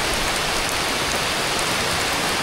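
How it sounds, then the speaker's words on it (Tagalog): Steady rain pours down at a campsite in Indang, Cavite, a dense continuous hiss of drops striking tarps and the ground, loud and even throughout with no voices. "Ulan ulan!"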